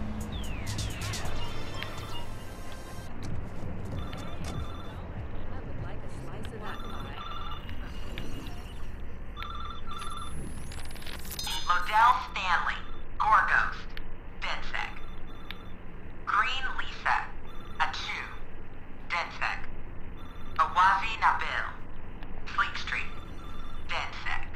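A payphone rings in the video game Watch Dogs 2, a repeated electronic trill in steady bursts that follows a stretch of game noise and chatter, with someone talking over parts of it.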